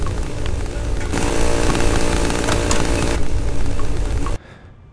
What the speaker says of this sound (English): Please make the chainsaw sound go away.